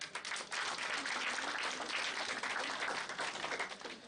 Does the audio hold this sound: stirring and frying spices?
no